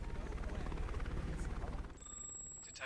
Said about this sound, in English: The Metropolis Bureau of Investigation helicopter has just arrived at the crime scene